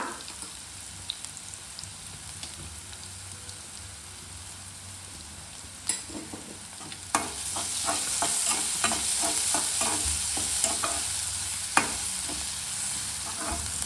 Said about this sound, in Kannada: ನೋಡಿ, ಈರುಳ್ಳಿ ಎಲ್ಲ ಚೆನ್ನಾಗಿ ಫ್ರೈ ಆಗಿದೆ.